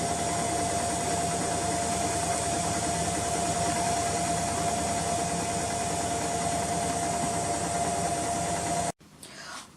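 A washing machine runs a wash loaded with soap nuts, giving a steady, even mechanical hum and churning rumble that holds for most of the stretch before cutting off abruptly near the end.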